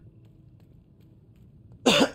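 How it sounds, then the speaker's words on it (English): A short, loud throat clearing cuts in near the end after a stretch of quiet background hum, a single harsh burst lasting under half a second. "I gotta clear my throat."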